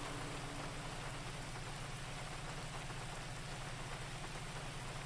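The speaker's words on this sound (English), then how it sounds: "It's raining pretty bad." Heavy rain pouring in a GTA 5 game scene, a dense, steady wash of droplets at constant level with no voices, unbroken for the whole stretch.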